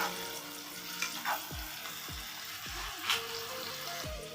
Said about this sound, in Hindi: अभी हम इसको ऐसे तेज आंच पे भूनते रहेंगे।